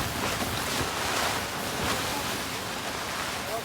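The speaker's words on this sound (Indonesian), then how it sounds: "malah hujan deras, angin kenceng." Heavy rain and strong gusting wind hit a campsite in cold, windy weather during a failed tent pitch, a dense, steady hiss that surges and eases a little, close and fairly loud throughout.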